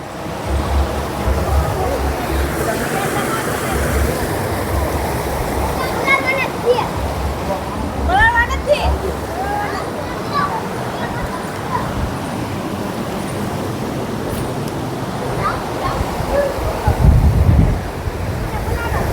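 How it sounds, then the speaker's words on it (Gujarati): A small stream flows near Gautameshwar Mahadev with a continuous rushing, splashing wash, close and fairly loud. Wind buffets the microphone and faint voices sit underneath. "જો કેવું સરસ મજાનું ઝરણું જાય છે ભાઈ."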